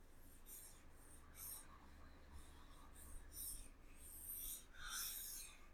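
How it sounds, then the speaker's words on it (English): Writing on a board during a math explanation produces a series of short, scratchy strokes at a faint, close level over a low steady background hum, with no clear speech. "let me write"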